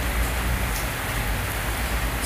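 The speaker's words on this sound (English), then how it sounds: "Oh, it's raining, awesome." Steady rain falls outdoors, a dense, even hiss with scattered drops that holds at constant strength throughout and has no voices over it.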